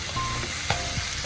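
Chicken pieces sizzle and spit in a hot pan with plenty of pepper while being stirred for Filipino chicken mechado, a steady close frying hiss broken by a few scraping stirs.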